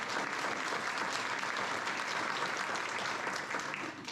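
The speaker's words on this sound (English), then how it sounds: "how about if we give her a round of applause?" An audience at the Kiawah Island turtle patrol dinner gives a round of applause, steady dense clapping from a roomful of people that holds throughout and eases slightly at the very end.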